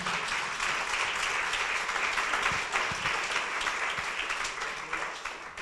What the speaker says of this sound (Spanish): Un aplauso a la sangre del Señor.